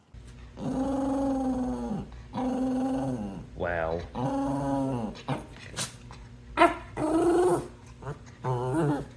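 A dog growling and grumbling close up in a drawn-out, varied series of vocal rumbles and whines. Short yips and snorts come in between, with a brief human exclamation.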